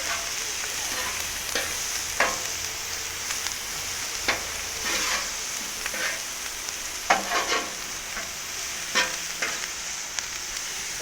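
Broccoli and cauliflower with Caesar dressing and breadcrumbs frying on a large 360 XL griddle, a steady loud sizzle broken by repeated scraping and stirring clicks from a spatula.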